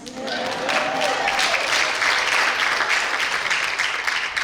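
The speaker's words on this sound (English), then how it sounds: "You can clap for that" Sustained applause from a large audience, a dense steady wash of clapping lasting the whole stretch at fairly loud level.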